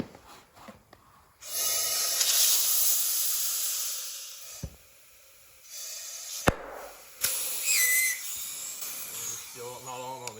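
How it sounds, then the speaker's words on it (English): Air hisses loudly as a kart tire is inflated and forced over its bead, a long steady rush broken by short pauses, sharp pops and a brief whistle. "That's to keep the air from shooting out of these holes as it pops over the bead."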